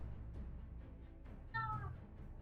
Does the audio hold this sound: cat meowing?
yes